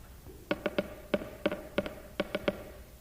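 A telegraph key tapping out Morse code in a classroom: about a dozen crisp, sharp clicks in short uneven groups, close and clear against a quiet background.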